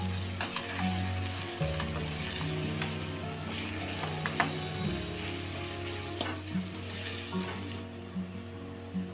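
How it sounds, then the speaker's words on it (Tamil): Chopped onions sauté in a hot pan for chilli idli, a steady close sizzle and crackle with occasional stirring scrapes and clicks throughout. "சேர்த்துட்டு இதை பச்சை வாசனை போகிற வரைக்கும் வதக்கிடலாம்"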